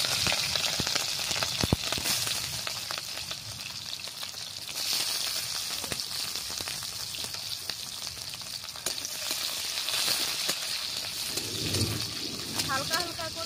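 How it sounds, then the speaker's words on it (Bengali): Chopped capsicum dropped into hot oil in a pan, giving a steady moderate sizzle and frying crackle with occasional stirring clatter, and someone speaking over it. "তেলটা গরম হয়ে গেছে, তেলের মধ্যে দিয়ে দিচ্ছি কুচিয়ে রাখা ক্যাপসিকামগুলো।"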